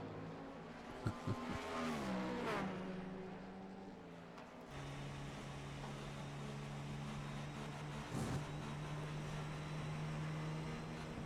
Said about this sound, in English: Is that a little bit of throttle modulation going into some of these corners I'm hearing from Hamlet's car?